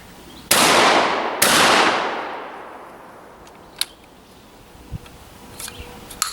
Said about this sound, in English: the shotgun is pretty pleasant to shoot